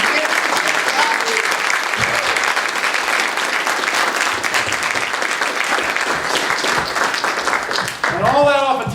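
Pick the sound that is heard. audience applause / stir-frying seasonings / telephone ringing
audience applause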